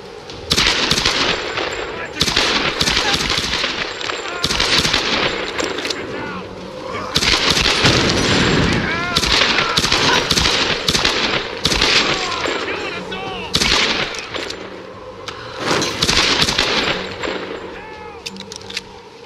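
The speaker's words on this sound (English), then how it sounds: "Should I use the gun?" Rapid gunfire from a gun in the video game Tomb Raider Definitive Edition on Xbox One, repeated loud bursts over nearly twenty seconds with explosive game effects and a voice talking over them.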